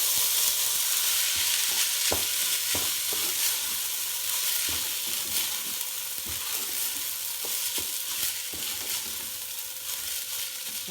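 Onions fry in a pan with a continuous bright sizzle, broken by occasional soft clicks and scrapes as they are stirred.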